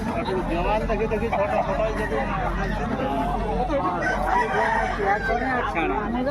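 Several roosters crow amid a busy crowd babble at a chicken market, voices talking throughout; the crowing is partly masked by the steady market chatter.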